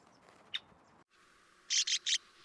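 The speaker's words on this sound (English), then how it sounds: "I get too close to the nest of this male red-winged blackbird" A male red-winged blackbird near its nest by a pool calls with one short chip, then three loud, rapid harsh bursts close to the microphone.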